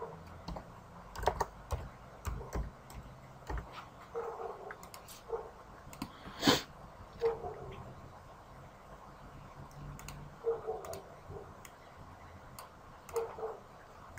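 Typing on a computer keyboard comes as scattered bursts of quiet, close key clicks with pauses between, one sharper click midway, and no talk.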